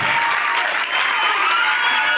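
Dense, steady clapping from a crowd at a village ceremony honouring an art teacher, sustained and fairly loud throughout with no pauses.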